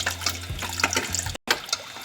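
Water poured from a cup into a pot of simmering beef nihari gravy, a splashy, gurgling stream close to the microphone that cuts off abruptly and resumes with softer trickling.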